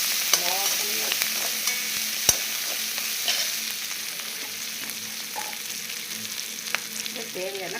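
Asafoetida sizzles in hot oil for a brinjal and mango sambar, a continuous close frying hiss with light stirring scrapes and a few sharp clicks.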